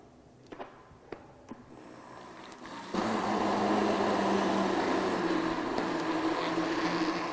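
An electric mixer beats cream cheese into a paste for a brownie cheesecake. A few soft clicks come first, then a loud, steady, close whir runs without a break to the end.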